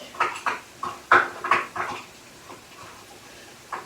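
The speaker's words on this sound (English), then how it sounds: "I'm going to add and press in my garlic" Garlic squeezed through a garlic press over an onion and celery mix for old-fashioned stuffing, a series of short, close clicks and squelchy metal creaks in quick succession, then quieter scattered taps.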